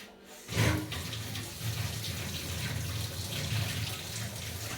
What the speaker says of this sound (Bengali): হাতটা ধুয়ে নিই আমি